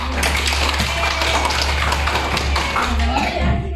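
Applause from a classroom audience during a school presentation, a continuous patter of many hands clapping under a steady low hum, with voices speaking over it.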